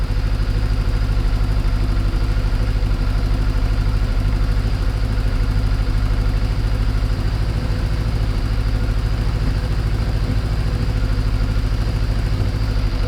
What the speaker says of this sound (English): I'm doing very small movements, and you can hear the bike changing quite a lot.